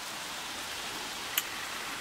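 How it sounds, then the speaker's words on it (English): Steady rain falls outdoors over a vegetable garden, a soft, even hiss of drops with one brief sharp tick partway through and no voices. "I'll do it when I get a break in the rain."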